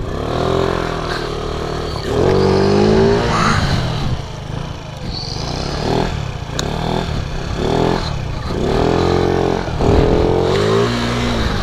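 A stock 50cc scooter with no performance mods revs hard through a wheelie, its engine whine rising and falling in pitch over several surges, loud and close throughout.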